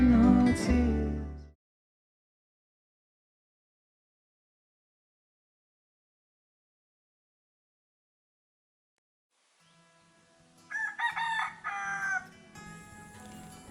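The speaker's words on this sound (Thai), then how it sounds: "นอนแล้วโดนไก่ปลุกแบบนี้มานานแล้วนะ เสียงไก่ขันเนี่ย" A rooster crows loudly at the start, followed by a long silence, then softer bird calls and clucking fade in from a distance, in the mountains of Nan province, Thailand.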